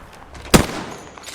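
A single sharp gunshot from Gibraltar in the Apex Legends video game, one loud close crack with a short fading tail over quiet game ambience, no talk.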